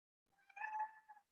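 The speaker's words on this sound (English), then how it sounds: "Oh, now my cat is coming." A pet cat gives a single drawn-out meow, fairly close but soft, followed by a brief short trailing note in an otherwise quiet room.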